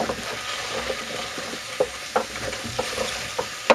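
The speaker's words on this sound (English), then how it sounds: "Give that a stir. Might need a smidge extra oil at this point." A frying pan of hot oil with turmeric being stirred in, a soft steady sizzle broken by a few light scrapes and taps of the utensil, close and fairly quiet, with no talking.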